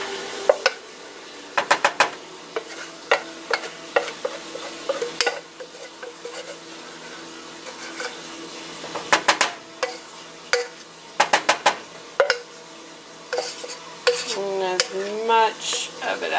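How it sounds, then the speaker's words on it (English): A utensil scraping thick golden milk paste from a pan into a jar, heard as repeated close metallic scrapes and taps in uneven bursts, with a brief louder clatter near the end. "So now I'm putting it in the jar, just scraping it in"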